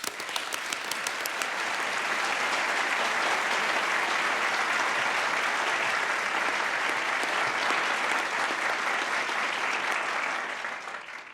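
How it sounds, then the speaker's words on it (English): A full hall breaks into sustained applause for a visiting reverend, dense even clapping that swells quickly, holds steady for several seconds and then tapers off at the end. "So join me in a round of applause for the Very Reverend George Adams."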